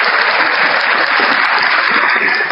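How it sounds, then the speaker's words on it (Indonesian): Studio audience applause at an Indonesian religious debate show, a steady dense wash of clapping that stays loud and even throughout with no voices over it. "Tepuk tangan dulu dong sekali lagi."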